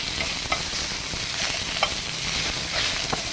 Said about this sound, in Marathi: आता त्यात कोथिंबीरीची स्टेम घालायची आहे, म्हणजेच दांड्या घालायच्या आहेत आपल्या। छान परतून घ्यायचं आहे।